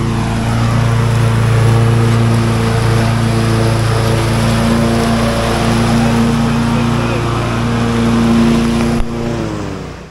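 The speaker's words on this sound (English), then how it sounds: "We got Eric on the Excite lawnmower." A Husqvarna Excite lawn mower cuts through rough, uneven grass with a loud, steady motor drone that holds nearly constant throughout, cutting off abruptly near the end.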